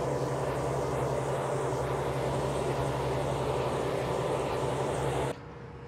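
A sugar beet harvester runs in a field, its topper and spinning auger throwing beet tops out across the ground, making a loud, steady mechanical roar that cuts off sharply near the end.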